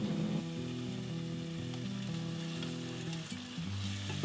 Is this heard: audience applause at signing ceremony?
no